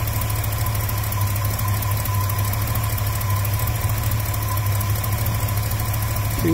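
A car engine with a leaking radiator idles steadily, a constant close, loud mid-pitched hum with a faint knocking texture and no talk.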